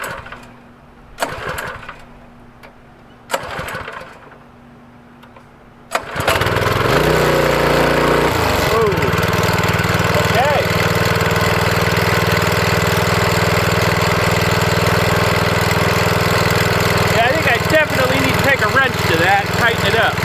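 A Craftsman 3300 psi gas pressure washer engine is pulled a few times, then catches and runs at a steady, loud, close roar that continues to the end, with faint talk over the early pulls.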